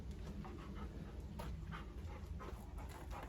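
A golden retriever pants in quick, rhythmic breaths close by, soft against a low background rumble, with no talking.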